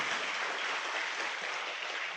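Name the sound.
audience applause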